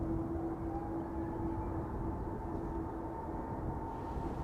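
Jet engines spool up at Schiphol Airport, a constant distant low roar with a steady droning whine layered on top, unbroken and without voices.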